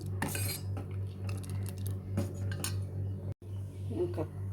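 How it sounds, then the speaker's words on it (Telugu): Metal spoon scraping and clinking against a pot of boiled milk for sago payasam, intermittent soft stirring clatter over a steady low hum, with a brief silent gap near the end. "బాగా ఇలా కలుపుకుందాం, ఎందుకంటే మరిగిన పాలు కాబట్టి."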